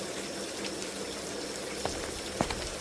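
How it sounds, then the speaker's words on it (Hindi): Steady evening rain falls in an animated Hindi story, a soft, even hiss with a few faint drip-like taps standing out. "बारिश भी शुरू हो गई थी।"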